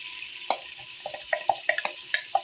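Chopped onion tossed into a hot pot for Tunisian frik soup, giving a crackling sizzle with scattered sharp pops and spits over a steady frying hiss, heard close with no talking.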